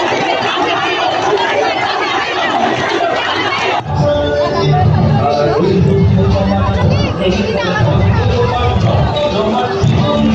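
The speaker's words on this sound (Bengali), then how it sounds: "মানুষের উল্লাস দেখে ভালোই লাগছে" A street crowd celebrating a victory, a dense roaring hubbub of many voices that grows louder and fuller partway through and stays close and continuous to the end.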